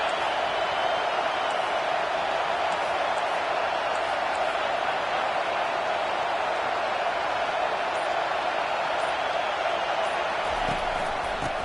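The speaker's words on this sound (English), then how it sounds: "Listen to this crowd just shaking the girders of this place trying to help their defense." A football stadium crowd roars in one dense, unbroken wall of noise that stays loud and steady throughout.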